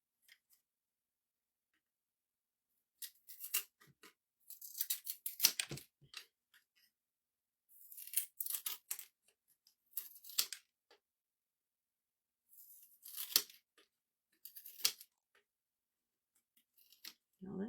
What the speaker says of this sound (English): So we're just gonna give them a cut.